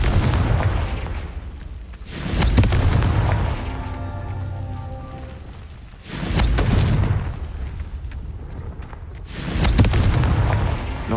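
Heavy booming blasts of the Confringo fire spell in Hogwarts Legacy, three loud explosions spaced a few seconds apart, each with a rolling rumble that trails off into quieter ringing between them.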